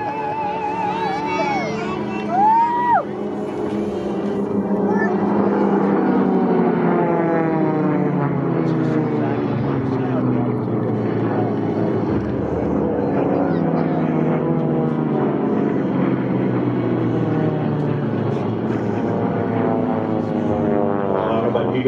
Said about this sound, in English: Listen to those engines wound up.